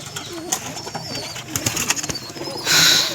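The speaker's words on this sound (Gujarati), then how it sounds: "બધા કબૂતર લડાઈ કરે છે" Pigeons in a coop coo softly and scuffle with brief rustles and wing flaps, ending in a burst of flapping, close by and without talk.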